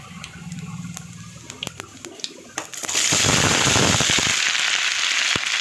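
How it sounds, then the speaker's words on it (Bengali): Pumpkin greens with potato, taro and ridge gourd dropped into hot oil tempered with five-spice, first a few sharp crackles and pops, then a loud, steady, close sizzle that sustains to the end. "দিলাম কিছুটা পাঁচফোড়ন, এরপরে আমি এবার শাকটা দিয়ে দেবো।"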